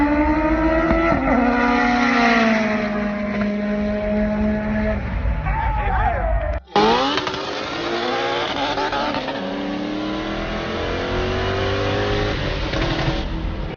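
A Honda car does a street pull race against a Mustang, its engine revving hard through rising gear pulls with a brief break midway, loud, close and continuous.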